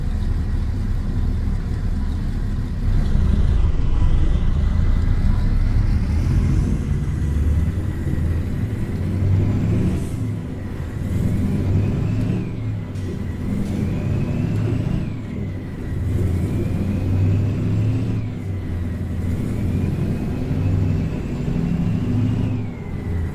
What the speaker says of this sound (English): Again with the engine brake.